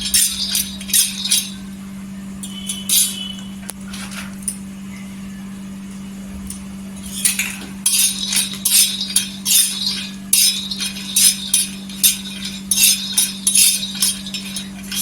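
Peanuts roasting on an iron griddle, rattling and clinking in scattered bursts as they are stirred and tossed, over a constant low hum from the stove, with no voices.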